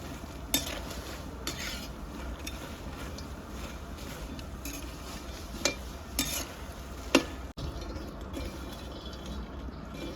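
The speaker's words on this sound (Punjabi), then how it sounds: "ਆਪਣੇ ਮਖਾਣੇ ਜਿਹੜੇ ਫਰਾਈ ਹੋ ਗਏ ਆ" Quiet sizzle of fox nuts (makhana) frying in a pan, punctuated by a few light clinks and scrapes of a utensil stirring, no voices.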